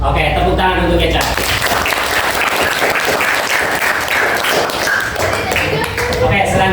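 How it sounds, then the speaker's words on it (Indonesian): Applause and clapping for a young participant named Eca at an Indonesian gathering with an Ustadz, dense and steady throughout, with voices talking over it. "tepuk tangan untuk Eca"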